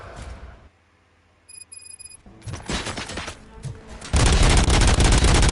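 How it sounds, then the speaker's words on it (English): Gunfire in the Robocop Rogue City video game, heard as bursts of sharp shots and booms with a quiet gap early on, then a loud sustained barrage toward the end. "Gunshots? What's going on?"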